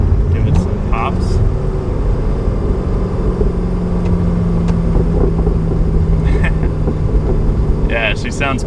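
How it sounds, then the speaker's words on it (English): A C6 Corvette exhaust rumbling loudly nearby, with a steady engine drone and a few sharp crackles and pops scattered through it. "And let me see if I can get it to crack for you. Give it some pops."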